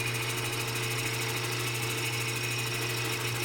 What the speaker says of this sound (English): Some beautiful shavings coming off of this mahogany.